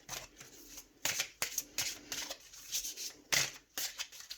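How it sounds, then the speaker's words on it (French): Oracle cards being shuffled and drawn by hand, soft intermittent riffling and sliding bursts close by in a quiet room with no talking. "Je vais tirer deux dernières cartes ici avec cet oracle"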